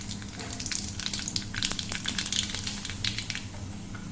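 Nigella seeds dropped into hot oil for tempering after frying pomfret fish, giving a steady, close crackling sizzle with sharp pops throughout and no talk.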